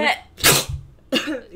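A single sharp human sneeze bursts out loudly between quieter breathy vocal sounds, close to the microphone in an indoor setting.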